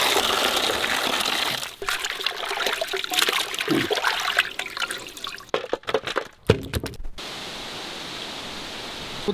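Tap water runs and splashes as raw chicken drumsticks are rinsed, a loud continuous gush with handling noises that breaks off into short bursts before quieting.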